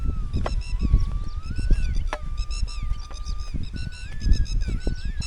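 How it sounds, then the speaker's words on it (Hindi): Birds, goose-like, calling on the Narmada riverbank: repeated loud, close honking calls overlapping in bursts, with no speech. "ये चिड़िए हमारे आगमन से, इंसानों के आगमन से परेशान तो होते हैं, परेशान मतलब चहचहाना इनका, आवाज़ करने लगते हैं"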